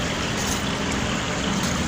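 A river flows through a city park at night, giving a steady, dense rushing wash of water with no breaks, fairly loud and close, with no talking.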